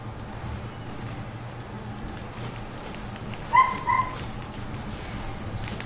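Inside a video game, a dog gives two short, sharp barks partway through, standing out briefly above a low, steady background of game ambience.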